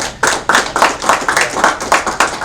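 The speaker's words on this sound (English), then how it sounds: "I just want everyone to give them a warm round of applause" A conference audience at a technology innovation summit claps steadily in a warm round of applause, a dense patter of many hands with no voices over it.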